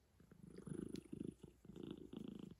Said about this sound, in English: Did you hear her purring the whole time?